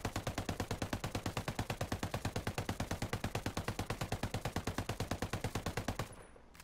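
An MK17 assault rifle in the video game Ghost Recon Breakpoint fires in a controlled, tightly even stream of rapid shots for about six seconds, then cuts off abruptly into near silence.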